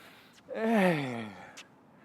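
A person imitates the improper, sharp gasping breath a tennis player might take before a groundstroke: one loud, close, voiced inhale lasting under a second, then quiet with a faint click.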